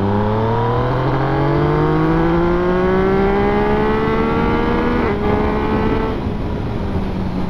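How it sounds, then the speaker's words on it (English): A Yamaha XSR 900 triple-cylinder motorcycle engine pulls up through the revs, its pitch rising smoothly and loudly, then dropping back as the rider shifts. "plenty of low down torque and grunt from that triple motor, makes a fantastic sound."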